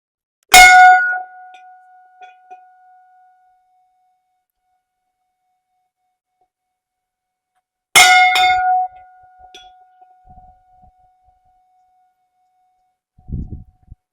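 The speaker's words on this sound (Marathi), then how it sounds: "घंटी वाजा जरा मस्त" A temple bell is struck twice about seven seconds apart, each a bright metallic clang ringing out and decaying slowly in quiet outdoor surroundings, with a soft low bump at the end.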